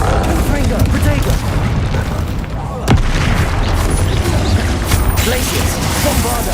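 Confringo fire curse blasts from the Hogwarts Legacy video game: loud booms and crashing impacts in a continuous din of combat, with one sharp crack in the middle and voices shouting over it.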